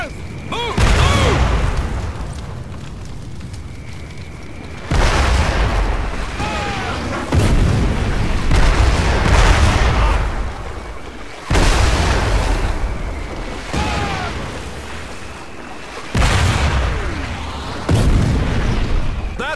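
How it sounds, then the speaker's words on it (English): Mortar rounds exploding in the video game Crysis: Warhead, a series of heavy booming blasts every few seconds with rumbling debris and gunfire between them, loud and close, with shouted voices mixed in. "We've got incoming IDF. Okay. Mortars! Move!"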